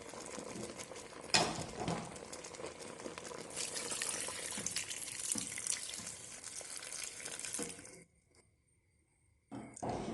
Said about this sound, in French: Et je vais ensuite rajouter un peu d'eau.